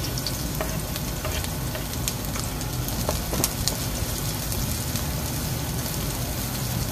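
Garlic frying in hot oil in a pan, a dense, loud, continuous crackling sizzle close up, steady throughout with a few sharper pops, no talking.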